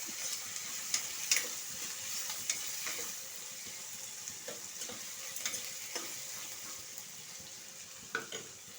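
Ingredients fry in very hot oil for Bombay chutney, a continuous close crackling sizzle with scattered sharp spits and pops, occasional utensil clicks and stirring, no voices.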